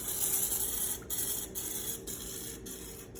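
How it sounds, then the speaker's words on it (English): Quick hissing bursts of an oil sprayer coating bread rolls on parchment paper, several short sprays separated by brief pauses, close by and fairly quiet. "Take the same oil you used to cover the parchment paper and you're going to spray it over each roll."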